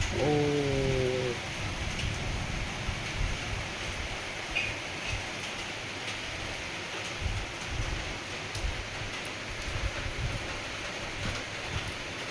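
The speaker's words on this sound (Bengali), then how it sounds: "সকালবেলা উঠে যদি এরকম বৃষ্টি দেখি" Morning rain in the Baishakh season falls steadily outdoors, a moderate, even wash of patter with a brief tonal sound at the very start.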